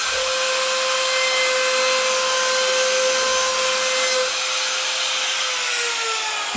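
A laminate trimmer router runs steadily at high speed while cutting a finishing pass, its loud whine holding constant throughout with a few strong tonal lines and a slight dip near the end.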